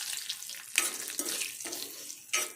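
Tempering spices with turmeric and curry leaves frying in a pan for Telangana pappu charu, bursts of sharp sizzling and stirring scrapes in short uneven waves, close and fairly loud.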